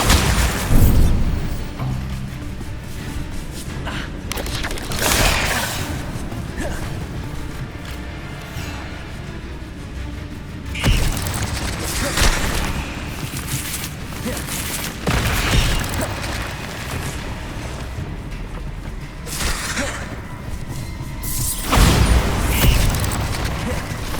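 Bombarda spell blasts in Hogwarts Legacy, with repeated loud booming explosions every few seconds over a continuous rumble of combat effects.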